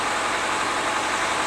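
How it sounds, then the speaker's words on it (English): A small Suzuki car engine idles nearby, a steady broadband running drone with a low rumble underneath, constant and unbroken. "you can hear my little Suzuki running in the background"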